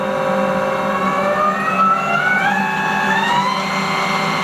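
Haas ST-10Y CNC turning lathe with its live milling tool spinning at 1,000 RPM, a loud steady mechanical whine with layered tones that glide upward, over a low constant hum, no talking.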